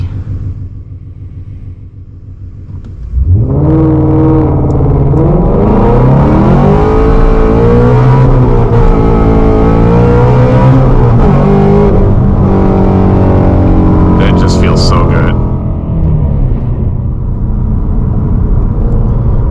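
A car with an MGW short-throw shifter idles, then launches hard, its engine roaring loudly and close as it revs up through several quick gear changes, staying at full volume to the end.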